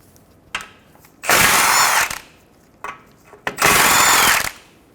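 A power impact tool removing 17mm nuts from the front wheel hub of a 2014-2019 Toyota Highlander, two loud sustained buzzing bursts, each preceded by short clicks, close up with no talking.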